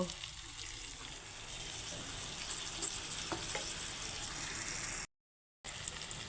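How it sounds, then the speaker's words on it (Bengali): Tilapia fish pieces, potato and ridge gourd sauté in a pan with a splash of water, giving a steady close sizzle with occasional stirring scrapes and a brief drop to silence near the end. "একটু সামান্য জল দিয়ে দিচ্ছি কষানোর জন্য"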